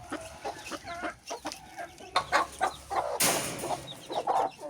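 A first-time mother hen with chicks clucks repeatedly in short bursts, close by, with other chickens calling around her in a busy farmyard.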